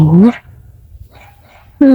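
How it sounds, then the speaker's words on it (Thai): A dog barks twice outdoors on a cool early morning near the mountains, two loud close barks about a second and a half apart with quiet between them. "หมาเห่า"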